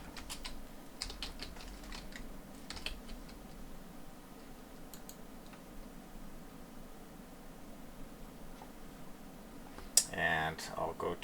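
A new password typed on a computer keyboard: light, irregular key clicks in short bursts, fairly faint over a steady background hiss, with a slightly louder cluster of taps near the end.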